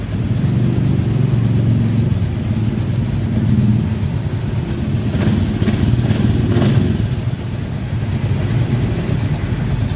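Honda Scoopy Fi scooter with a check-engine blink-code fault, its small engine running and idling steadily close by, a low continuous rumble with a brief rise in revs partway through.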